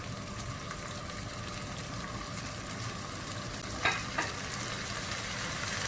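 Tomato mixture with capsicum, salt and black pepper being stirred in a pan for eggplant moussaka, a steady soft sizzle with two brief scraping strokes near the end.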